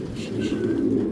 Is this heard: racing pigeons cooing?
yes